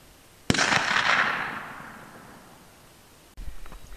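A rifle shot aimed high at a target on a table, one sharp crack followed by a long decaying rumble of echo, then a brief shuffling noise near the end.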